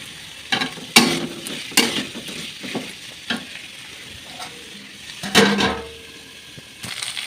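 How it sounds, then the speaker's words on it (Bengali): Potato, pointed gourd, onion and spices fry together in a wok, a close sizzle broken by repeated bursts of scraping and stirring as a spatula turns them, with no voices. "এবার আলু পটল পেঁয়াজ মশলা সব একসাথে ভাজছি"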